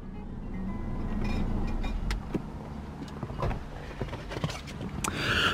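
A 2016 Mercedes-Benz CLS350d Shooting Brake AMG Line diesel idles with a low hum before shutting off, followed by scattered close clicks and small mechanical knocks inside the car.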